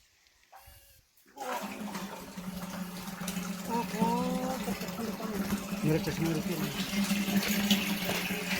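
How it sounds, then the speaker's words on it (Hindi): Mountain water piped from a tank runs steadily into a water bottle outdoors, a continuous close splashing rush that starts abruptly and persists, with a person talking over it. "टैंक में पानी ओरिजिनली आ रहा है और हम पानी की बोतल भर रहे हैं"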